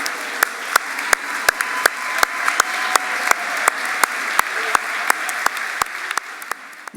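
Audience at a celebration event applauding community honorees, steady crowd clapping with sharp individual claps standing out, sustained throughout and tapering slightly at the end.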